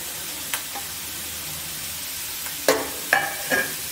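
Vegetables and roughly mashed boiled potato are stirred in a pan with a spoon, a steady low sizzle and hiss running throughout, punctuated by a few scraping clatters toward the end.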